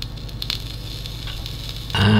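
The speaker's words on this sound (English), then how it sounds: "you can probably hear that sizzling" An e-cigarette coil sizzles after a drop of liquid, with faint crackling and clicks at first, then a loud buzzing hiss that starts abruptly near the end.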